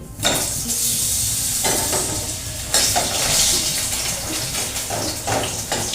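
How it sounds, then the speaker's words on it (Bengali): Potato sticks frying in mustard oil left over from frying fish give off a steady, close sizzle with a few louder bursts of crackle, and nobody speaks. "মাছ ভাজার তেলেই আমি আলুগুলোকে ভাজছি"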